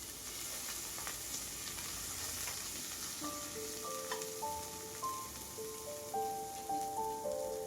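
Chopped onions frying in a pan for sprouted horse gram sambar, a steady soft sizzle with light crackle and faint scraping, alone and fairly quiet, with a few faint tonal beeps near the end.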